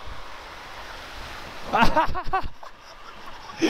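A motorbike splashes through water on a rough road during a ride from Kathmandu to Tarkeghyang, with rushing water and wind buffeting the microphone and a brief surge of engine noise midway.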